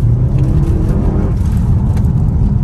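A car engine rumbles loud and close with a steady, deep revving drone that holds throughout, no voices over it.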